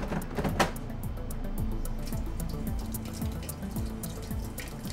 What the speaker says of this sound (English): Wash your hands for at least 15 to 20 seconds.